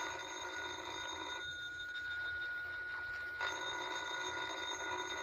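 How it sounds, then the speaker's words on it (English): Telephone ringing in an old radio drama, a steady electric bell tone that breaks off briefly in the middle and then resumes, fairly faint against a low hum. "Well, ain't you going to answer the phone?"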